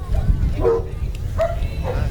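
During an outdoor water sports dog demonstration at Port Bourgenay, a dog lets out two or three short yips and barks close by, over steady low background rumble with faint voices.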